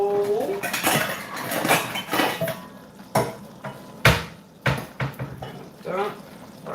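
Dishes and cutlery clatter in a home kitchen while a bowl is taken out. Ceramic clinks and sharp knocks come in irregular bursts, loud and close, with a person talking in the early part.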